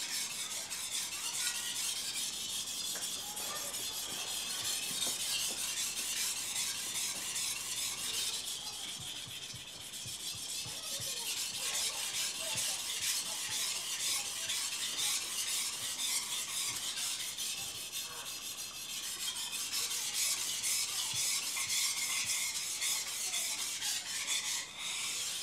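A ring-style knife blade pushed along a sharpening stone gives a continuous dry rasping scrape, close and steady, with brief dips between strokes over about twenty-five seconds.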